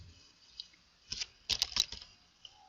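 A few quick bursts of computer keyboard typing, close and clear, in short clusters separated by pauses in an otherwise quiet room.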